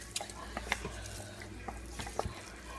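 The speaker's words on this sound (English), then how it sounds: "so I give it a bit of a stir" A spoon stirs beef stew in a pot, giving a few scattered scrapes and soft clinks against the metal over a low simmering background, fairly quiet.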